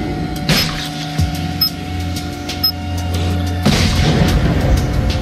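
A bomb goes off in a warehouse and logistics simulator game with a pallet jack: a broad thump over a steady mechanical hum, followed by another heavy burst a few seconds later.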